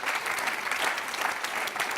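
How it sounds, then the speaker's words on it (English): Audience applause for a panel discussion on love, lust and commitment in the digital age, a steady, dense clapping from a large crowd that fills the whole moment without any talk over it. "Let's give them a big round of applause."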